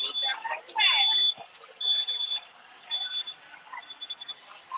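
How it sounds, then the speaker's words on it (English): Repeated high-pitched electronic beeps from an electric scooter in short bursts, some longer tones, heard outdoors at a theme park over faint background chatter and street noise. "that beeping you heard is from a scooter company"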